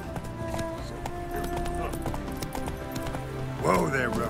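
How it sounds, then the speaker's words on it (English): Horse hooves galloping in the video game The Witcher 3, a steady rhythmic clip-clop beneath game ambience and music, ending with a brief horse snort or whinny. "Whoa there, Roach."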